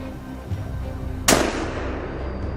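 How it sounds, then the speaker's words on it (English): A single sharp gunshot aimed at wild boars on a winter hillside cracks out and echoes away, over a low background rumble. "The gunshots rang out."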